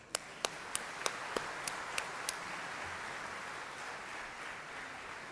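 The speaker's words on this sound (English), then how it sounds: "giving a big round of applause" A few sparse, evenly spaced claps from students ring out near the start and fade after a couple of seconds, leaving a soft background hush.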